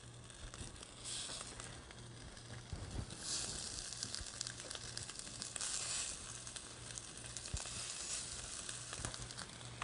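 Salmon kabob skewers sizzle in a saute pan, a steady soft crackling fry running throughout with brief louder hissing surges, fairly quiet and without talk.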